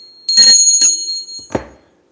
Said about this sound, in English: Bell, I bought that at a local antique.